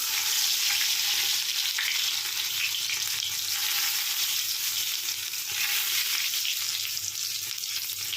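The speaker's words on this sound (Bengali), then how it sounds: "কড়াইটা গরম বলে তেলটাও গরম হয়ে গেছে এখানে আমি নিয়ে নিচ্ছি খানিকটা রসুন কুচি" Chopped garlic frying in hot oil in a heated wok, a steady, dense sizzle that holds evenly loud and close throughout with no talking.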